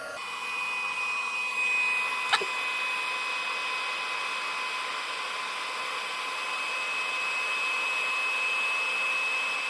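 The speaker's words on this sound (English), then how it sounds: "we will go ahead and heat emboss" A heat embossing tool blows a steady, close whirring stream of hot air over embossing powder on a small card piece held with tweezers, continuous and fairly even throughout, with one brief tick partway through and no speech.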